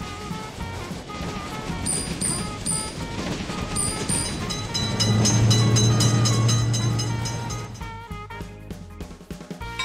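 In a railroad crossing simulator game, a train passes with a steady rolling rumble that builds to a loud low drone at its midpoint, then fades. Bright repeating crossing-bell tones sound throughout.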